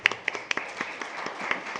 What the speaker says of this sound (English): And she even got a round of applause.